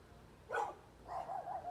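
Dogs barking at a distance, a sharp bark followed by a run of quicker, softer yips, faint and brief.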